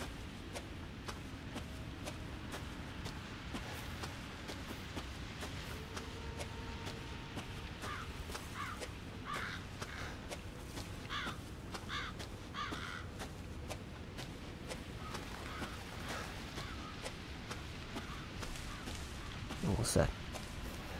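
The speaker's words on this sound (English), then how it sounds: "That's a pack of crows." Crows cawing in Resident Evil 7, faint distant caws repeating through the middle of a quiet, rumbling ambience, with someone talking softly.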